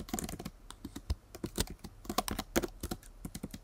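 Fingers type on a computer keyboard in quick, uneven bursts of crisp key clicks, heard close and clear with brief pauses between runs and nothing else in the background.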